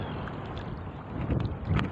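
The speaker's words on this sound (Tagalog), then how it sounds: "Lalong lumalakas talaga ang hangin" Steady rushing wind buffets the microphone with a low roar, gusting stronger toward the end; no talk.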